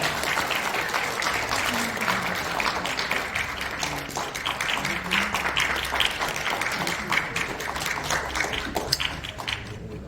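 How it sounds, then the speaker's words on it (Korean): Attendees at a Christian lawmakers' prayer breakfast give a full, continuous round of applause after a plaque presentation, lasting about ten seconds, with faint voices under it. "큰 박수 부탁드립니다"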